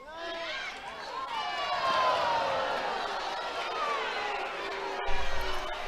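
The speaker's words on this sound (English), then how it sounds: "Crowd didn't like it." A college softball crowd at UCLA vs South Carolina booing a called strike, a swelling chorus of many voices with long drawn-out, falling tones that peaks and lingers, capped by a louder burst near the end.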